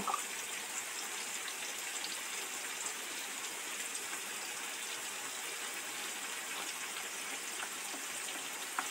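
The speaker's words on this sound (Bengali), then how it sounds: "এবার এতে একটুখানি জল দিয়ে দেব।" Water is poured onto ground cumin, coriander and chili powder to make a spice paste for chicken curry, a steady, soft trickling splash running continuously for several seconds, no talking.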